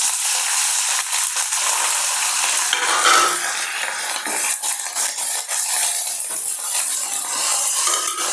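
Drumstick leaves and curry leaves sizzle loudly in oil in a pan, with a continuous frying hiss broken by scraping, stirring strokes and occasional clinks of a spoon against the metal.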